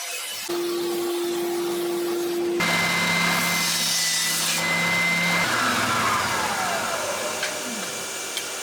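A router or CNC spindle machines a wooden Telecaster guitar body, a steady high whine that shifts pitch as the cut changes, with broadband cutting noise and dust-extraction roar running continuously throughout.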